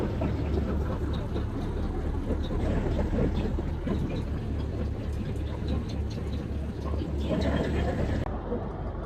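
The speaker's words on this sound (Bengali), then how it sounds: "আর লঞ্চ চলতেছে ঢাকার উদ্দেশ্যে" Steady engine drone and water rush from a passenger launch ferry cruising toward Dhaka in the evening, loud and continuous with faint crowd chatter mixed in.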